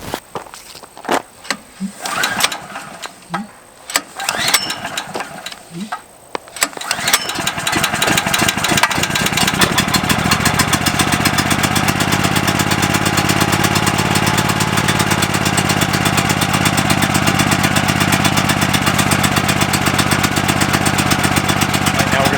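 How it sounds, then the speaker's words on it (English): A Predator 9000 generator fitted with a tire and wheel kit is started: handling and clicks first, then the engine catches and settles into a loud, steady running roar that continues to the end. "let's go ahead and fire it up"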